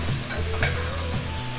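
Spice paste for Hyderabadi mutton masala frying in oil, sizzling steadily in a pan while a spoon scrapes and stirs it in repeated strokes, close and fairly loud.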